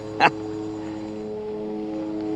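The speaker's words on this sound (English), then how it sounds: "Can you hear the airplane up there?" A skydiving airplane flies high overhead outdoors among trees, giving a faint, steady propeller drone that holds throughout the clip, with a brief sharp rustle near the start.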